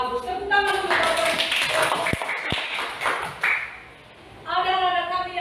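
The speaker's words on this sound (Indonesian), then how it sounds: "tepuk tangan untuk Bapak" A classroom group gives a short burst of clapping for a man, with speech before and after the applause and the clapping fading out before the next voice.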